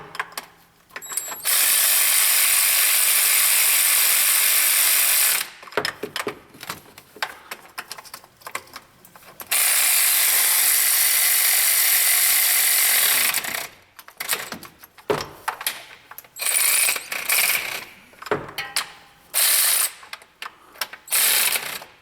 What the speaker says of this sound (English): Just hit that with a regular ratchet, make sure we're good.